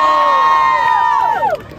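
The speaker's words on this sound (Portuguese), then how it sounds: "Muito barulho pra quem gostou das rimas da Lili." A rap battle crowd cheers and shouts loudly as one sustained rising-and-falling roar of voices that fades out after about a second and a half.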